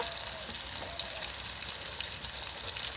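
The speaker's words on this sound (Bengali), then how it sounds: "রসুনটাও একটু নেড়ে চেড়ে হালকা করে ভেজে নেব এখন দিয়ে দেবো আদা বাটা লঙ্কা বাটা" Garlic, ginger paste and chili paste fry in hot oil, giving a soft, even sizzle with faint crackles and a few small pops, close and fairly quiet, with no talk.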